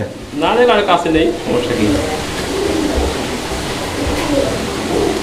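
Imported fancy pigeons coo softly nearby while someone talks over them, the low throaty calls continuing under his voice.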